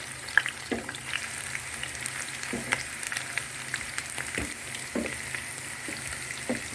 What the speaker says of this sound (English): You must allow your onions to fry very well